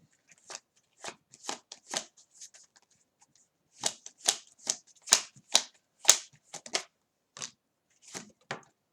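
Tarot cards being shuffled close up, a series of short crisp riffling bursts in an uneven rhythm, separated by brief pauses and louder in the middle.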